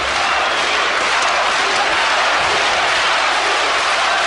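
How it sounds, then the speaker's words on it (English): A boxing crowd at a middleweight bout roars and cheers for fighter Arthur Abraham, producing a dense, continuous wash of noise that stays loud throughout. "Crowd getting behind Arthur Abraham"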